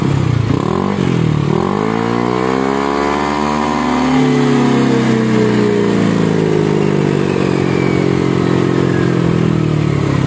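A Yamaha Aerox automatic scooter fitted with its original ROB1 exhaust revs up and down close by, the engine note rising and falling in smooth sweeps over a steady idle, fairly quiet and mellow.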